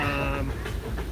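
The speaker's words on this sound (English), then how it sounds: "That's the train you guys hear coming by right now." A train rolls past near a Disney park during Pixar Fest, a steady low rumble with a fading horn-like tone at the start, loud and continuous throughout.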